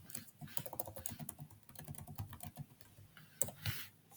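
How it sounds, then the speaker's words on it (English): Quiet, steady typing on a computer keyboard for network lab configuration, a rapid patter of soft key clicks with a slightly louder keystroke near the end. "So I will type it"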